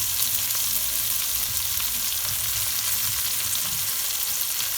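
Cremini and white mushrooms with potato sizzle and fry in a pot, a continuous bright crackling hiss that stays loud and steady throughout with no voices.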